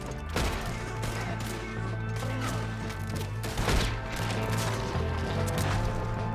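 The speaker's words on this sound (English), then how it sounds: "We got one shooting from the tower!" Gunfire in Red Dead Redemption 2 comes from a shooter in a tower, with a dense run of loud, sharp shots and impacts cracking one after another over a busy game soundscape.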